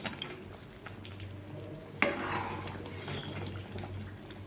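Sweet potato payesh with sugar simmering in a pot and being stirred, a steady low bubbling bed with scraping and clinks of a spoon, and a sharper knock around the middle.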